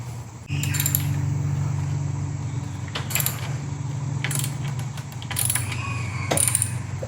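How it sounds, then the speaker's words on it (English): A VW Touareg fuel pump belt tensioner bolt being loosened with a ratchet, a steady mechanical hum underneath and repeated bursts of ratcheting clicks close by. "This loosens the tensioner, or this loosens the bolt that holds tension. Takes the tension off right there."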